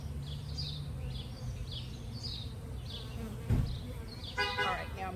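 Worker honeybees from a newly installed package buzzing around the hive, a steady soft drone with scattered higher whines and a brief bump of handling noise.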